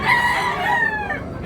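A White Hatch gamefowl rooster crows once, loud and close, a single drawn-out cock-a-doodle-doo that rises and then trails off over about a second and a half.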